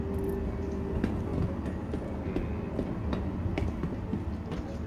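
A train capsule approaches a station in Star Citizen with a rolling, rumbling rail sound and a series of rhythmic clacks and thumps at moderate volume.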